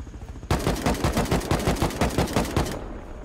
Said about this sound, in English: My bullets are hitting